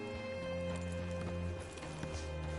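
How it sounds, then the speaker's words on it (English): Horse hooves clip-clop in the Western video game Red Dead Redemption, a steady run of hoof beats layered over continuous game music and ambient drone. "Hitch your horse up here."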